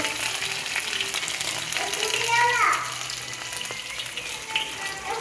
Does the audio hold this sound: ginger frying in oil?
yes